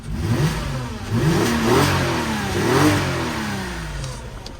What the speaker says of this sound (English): cold revving it